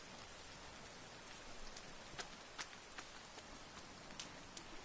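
Rain in the survival video game The Forest, a steady hiss of falling rain with occasional sharper drop ticks, fairly faint and without voices.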